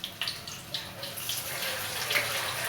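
Water is poured into a basin, a continuous rushing splash with small irregular spatters and drips throughout, close by and fairly steady with no talking.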